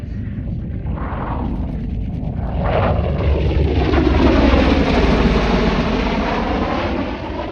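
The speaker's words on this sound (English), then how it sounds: "Lady Ace 11 setting up for a high-speed approach at about 500 feet above ground level" A Bell Boeing V-22 Osprey tiltrotor makes a high-speed pass about 500 feet up at an air show, its heavy engine and rotor roar swelling loud and close, then holding a broad, rumbling drone as it sweeps by.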